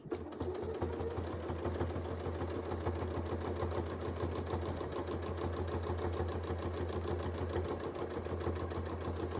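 A sewing machine free-motion stitching a Rainbow Braid quilt runs steadily and close by, its fast even needle chatter continuing alone for about nine seconds.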